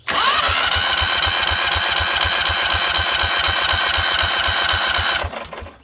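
A Cub Cadet 2135 garden tractor engine cranked with the bump starter catches and runs steadily with a loud, fast, even chugging for about five seconds, then cuts off abruptly.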